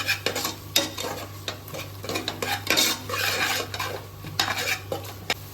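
Turmeric and Kashmiri chili powder stirred into hot frying oil for chicken kurma, a spoon scraping and clinking against the pan in quick irregular strokes over a soft steady sizzle, close and moderately loud with no talking.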